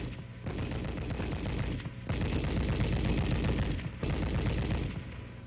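An M73 7.62mm tank machine gun firing from the open bolt in three sustained automatic bursts of rapid, dense shots, each lasting about two seconds with only brief pauses between them.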